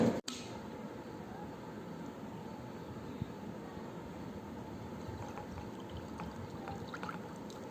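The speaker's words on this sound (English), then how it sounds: "the last thing you want to do is to add water to this mixture so you can drink it" Water being poured into a powder and milk drink mixture, a steady, continuous liquid splash and trickle that runs at an even level throughout, with no talking over it.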